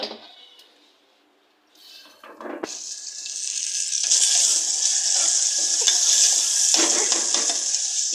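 Oil sizzling loudly in a pot for tempering a ridge gourd chutney, a steady bright hiss that swells after a quiet start and carries on with small spatters and clinks for several seconds.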